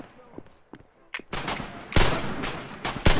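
Gunfire in the WWII shooter Red Orchestra 2, with sharp, loud shot cracks and bursts crowding the latter half among quieter clicks and movement, while a player talks over the action.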